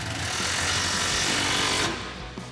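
A socket tool tightens a 10mm bolt on a Ford F-150 exhaust hanger, making a loud, steady mechanical whirr and rattle for about two seconds before cutting off.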